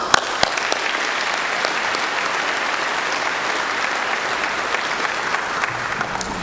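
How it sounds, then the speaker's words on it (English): Sustained applause fills a graduation ceremony: dense, even clapping from a large audience, loud and continuous throughout with no voices on top. "Let's get a round of applause."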